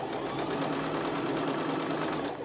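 A sewing machine runs steadily and loud for a couple of seconds, driven by its foot pedal, with a fast even mechanical rattle and no talk over it.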